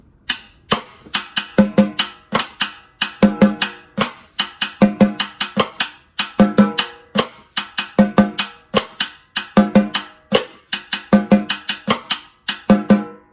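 A steady, repeating drum kit groove of sharp clicky cross-stick hits and a tapping ride cymbal pattern, played close and evenly with no talking.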